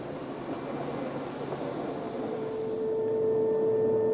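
Presidential airplane engine with a steady, broad jet roar that swells slightly louder toward the end, joined by a sustained tonal whine, with no voices.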